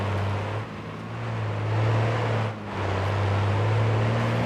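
A heavy truck's engine drones steadily as it drives off-road across snow and mud in SnowRunner, with the pitch dipping briefly twice during a gear change. The drone is continuous and loud, and no one talks.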